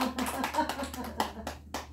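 A small church group claps for a deaconess, a handful of separate, sharp claps in an uneven rhythm, close and moderately loud.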